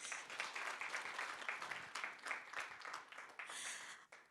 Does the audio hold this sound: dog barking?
no